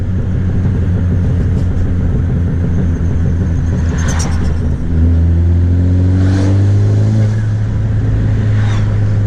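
Honda Civic FK7 Sport hatchback with a big turbo, a loud close engine drone that revs up and pulls through rising gears with turbo whoosh, steady and continuous from interior.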